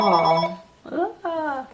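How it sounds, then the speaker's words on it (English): A phone rings nearby in a home kitchen with a short melodic ringtone of repeated tonal bursts, and a voice briefly speaks over it. "that was my phone"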